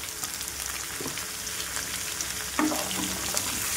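Onion and green chillies frying with curry leaves and turmeric for a broad bean and tomato curry, giving a constant close sizzle with a few soft spoon scrapes and clicks, no speech.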